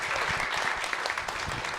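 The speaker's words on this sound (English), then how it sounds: "And can we get one more round of applause?" An audience at a film festival fireside chat claps in a brief, even round of applause, a moderately distant wash of many hands with no speech on top.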